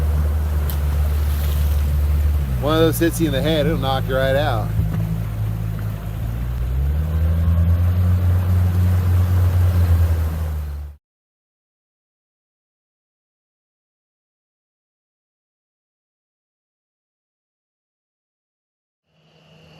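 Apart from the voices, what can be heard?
boat motor running on the Missouri River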